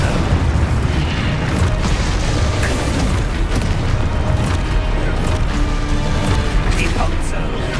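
Expulso explosion spell cast in the video game Hogwarts Legacy, a dense, continuous booming blast with bursts and crashes that fill the whole clip at loud level, amid a rapid string of other spell effects.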